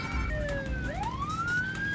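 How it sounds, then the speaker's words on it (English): A police siren in the video game Midtown Madness wails alone, its pitch sweeping down then rising again in a long, loud electronic glide over a low rumbling background. "So, wanna hear some sirens, people?"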